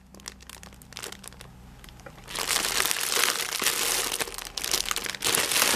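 Plastic packaging of a diamond painting kit with a 40x50 clown canvas is unwrapped, starting with a few sparse rustles and then becoming loud, continuous crinkling and crumpling up close, with no talk.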